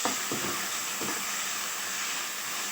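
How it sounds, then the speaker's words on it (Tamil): Tomatoes sautéing in a pan for a vegetable kuruma gravy give off a continuous hissing sizzle, with a few soft stirring knocks early on. "நல்லா வதங்கட்டும்"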